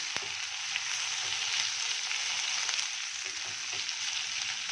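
Green chillies frying in hot oil over a high flame for a capsicum dish, giving a steady, even hiss and sizzle, fairly loud and close, with no break.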